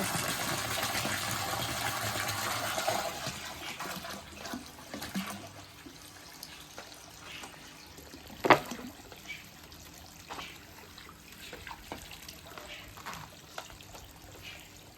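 Water pumped up and splashing down from a height for aeration, a steady faint trickle and pour with a few louder splashes and knocks.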